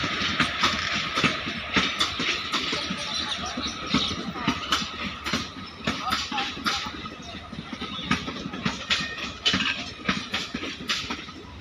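An express train bound for Amritsar rolls along the platform at Beas railway station in Punjab with a loud, close, continuous clatter of wheels and repeated sharp rail clicks, while faint voices sound in the background.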